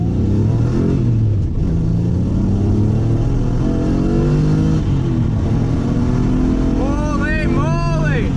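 A turbocharged car tuned with Megasquirt accelerates hard at 4 pounds of boost on a freshly resurfaced road, its engine note climbing loud and steady, with someone talking and whooping over it.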